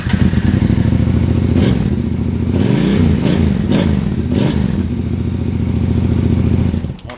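A Yamaha Tenere 700 adventure motorcycle with its standard exhaust and the dB killer removed idles loudly and steadily nearby, with several throttle blips and rough mechanical clatter.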